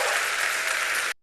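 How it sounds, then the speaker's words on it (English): A brief burst of dense, close applause that holds steady for about a second and then cuts off abruptly. "Give a round of applause"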